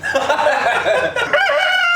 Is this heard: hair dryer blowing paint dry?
no